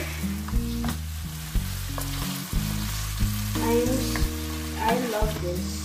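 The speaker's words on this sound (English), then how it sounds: "Now let's stir. We're gonna melt the cheese." Butter and cheese sizzle in a pan under repeated stirring, with scraping strokes and utensil knocks over a low, steady hum, close and fairly loud.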